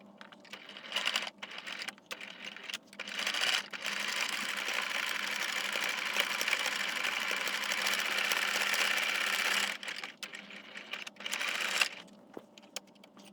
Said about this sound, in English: we're gonna sew these two from the center, and from the center our backing and the front fabric